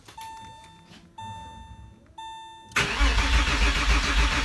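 Rebuilt Porsche 911 Carrera M96 flat-six engine cranking and firing after a complete rebuild, preceded by a few dashboard chimes and short starter attempts, then catching and running with a loud, rough rumble close by.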